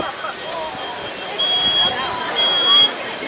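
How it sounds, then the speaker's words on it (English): Smoke detectors blare a high, steady electronic tone during a dormitory room fire test with sprinklers running, the alarm swelling louder in bursts over a constant hiss of spray and fire. "Here the smoke detectors have activated."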